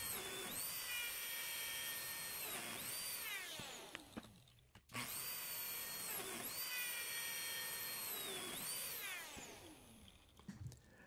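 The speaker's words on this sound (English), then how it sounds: "I'll cut two sets of slots in this sample" A high-pitched Lamello Zeta P2 joining machine whines as it cuts slots into wood, two long bursts separated by a short pause, spinning down at the end of each.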